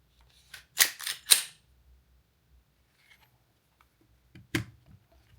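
Slide of a PSA Micro pistol fitted with a Glock 43X grip being put back on, giving a quick cluster of three sharp metallic clicks, then near silence and one more distinct click, close and fairly quiet.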